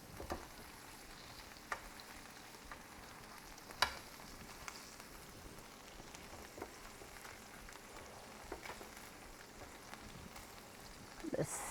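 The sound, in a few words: mustard glazed lamb chops sizzling in the pan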